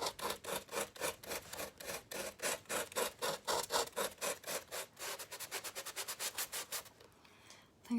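A wooden wedding picture frame being worked with a worn sanding block: a long run of fast, close, rhythmic scraping strokes that quicken toward the end, then stop abruptly.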